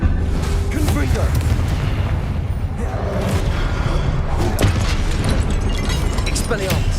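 Confringo spell blast in the Hogwarts Legacy video game, a dense rumbling boom with bursting impacts and crackle, loud and continuous under faint voice-like game sounds.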